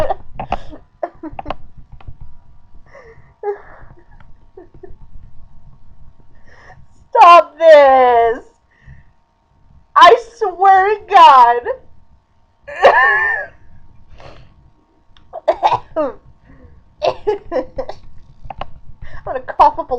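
Several bursts of harsh coughing and gasping come in clusters, separated by quieter stretches with faint talk and shuffling in the background.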